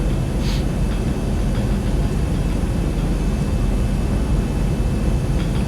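An airliner on approach to land at Madeira in the X-Plane flight simulator gives a steady, loud engine roar with a broad rumble that holds constant throughout, with no talk.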